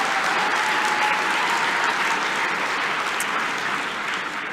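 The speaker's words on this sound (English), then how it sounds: "A big round of applause for them, please." Sustained audience applause rings through a graduation ceremony hall, a dense, even roar of many hands clapping without pause for several seconds, tapering slightly near the end.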